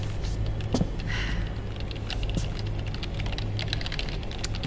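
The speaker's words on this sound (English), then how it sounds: "Three keyboards at once." Rapid, busy keyboard typing in Metal Gear Solid 4, as if three keyboards are being hammered at once, a steady dense clatter of keystrokes over a low background hum, with no voices.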